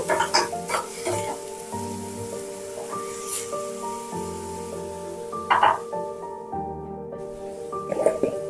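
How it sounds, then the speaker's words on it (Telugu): Thinly chopped onions with a sprig of fresh curry leaves fry in a pan, giving a soft sizzle with occasional stirring scrapes under steady background music. "ఆనియన్స్ బాగా ఫ్రై చేసుకోవాలండి"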